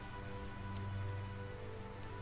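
Rain falling in the video game Tales of Zestiria, a constant close hiss of drops on surfaces with low sustained tones humming underneath.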